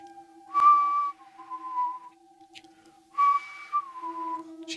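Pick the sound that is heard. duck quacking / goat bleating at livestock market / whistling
whistling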